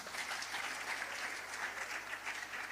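A church congregation applauding God during a sermon, a steady, fairly distant wash of many hands clapping together for nearly three seconds with no voices over it.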